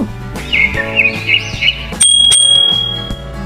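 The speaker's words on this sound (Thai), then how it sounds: "เห็นนกเกาะอยู่ที่กิ่งไม้ ส่งเสียงร้อง จิบจิบ" Small bird chirps come in quick bursts over a soft plucked background, then a clear ringing bell tone sounds and slowly fades.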